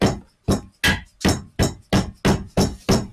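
A hammer strikes a chisel on a 5-speed Mazda G-series transmission: nine sharp metallic blows at an even rhythm, close and loud, with brief silence between them.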